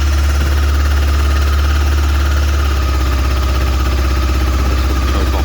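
A 2001 Honda CB500S motorcycle engine idles with the choke off, a loud, close, steady low rumble with a fast even pulse and no talk.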